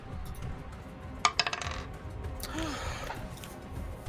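Dice are rolled during a Blades in the Dark tabletop role-playing session, giving a quick, close rattle and clatter of a few bounces on a hard surface, with a faint room murmur behind it and no one talking.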